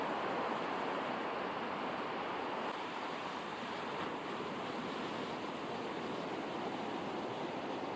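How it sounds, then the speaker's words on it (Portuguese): Rough ocean waves at Praia do Cepilho, a beach in Trindade, make a broad, steady roar of surf that stays constant without distinct breaks or voices. "Na Praia do Cepilho, as ondas são bem mais agitadas"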